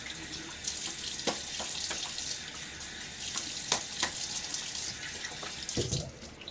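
Tap water runs steadily into a sink while a Gillette Rocket UK Gold safety razor is rinsed, with a few brief splashes and knocks near the end and no talking.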